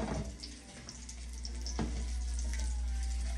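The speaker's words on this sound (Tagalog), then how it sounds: "we're gonna fry the spam na right there" Spam slices frying in a pan, giving a steady close sizzle under a low kitchen hum, with a brief crackle partway through and no voices.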